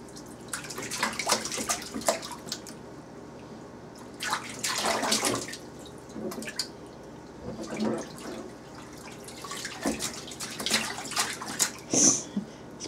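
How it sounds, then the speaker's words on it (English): Bathwater splashes and drips in a tub during a baby's bath, in irregular bursts of sloshing close by, with a faint bit of background noise. "Splash, splash, splash."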